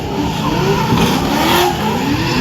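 A drift car doing circle work on a wet track at the Hot Wheels drifting show, MotorEx 2026, its tyres skidding continuously under a loud, steady engine roar, close and unbroken throughout.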